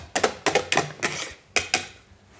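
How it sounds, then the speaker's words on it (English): A whisk beating a blend of vegetable cream and 15% dairy cream in a bowl: six quick, crisp clattering strokes in an uneven rhythm, close and moderately loud with no voice. "First one I mixed with a whisk."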